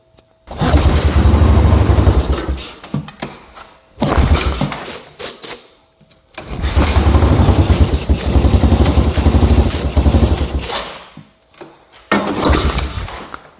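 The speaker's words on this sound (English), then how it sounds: "now back to our regularly scheduled me cranking on this Moto 4" A Yamaha Moto 4 ATV engine under restoration cranked in three long bursts of loud, churning mechanical noise, separated by brief pauses, close by with no talking; the engine does not start.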